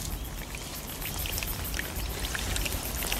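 Water pours out of the cut bulge at the base of a paperbark (melaleuca) tree, a close, steady splashing trickle with scattered droplet ticks.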